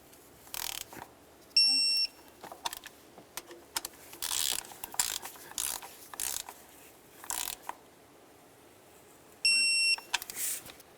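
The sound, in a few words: ratchet tightening valve cover bolts on a Toyota RAV4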